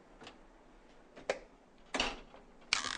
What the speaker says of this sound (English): Push in the oven rack and close the door.